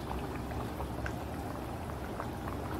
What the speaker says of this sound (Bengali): একটু ফুটবে, তারপরে নামিয়ে ফেলবো।